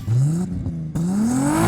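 A Volkswagen Corrado's VR6 engine revs up loudly and close by, rising in pitch, cutting off briefly during a shift, then climbing again in a steady, strong pull.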